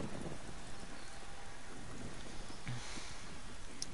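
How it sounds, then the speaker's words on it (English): Rain and thunder in the video game Generation Zero, a steady wash of rainfall with low rumbling thunder rolling underneath, heard on its own with no voices. "Now, it is raining, which kinda sucks."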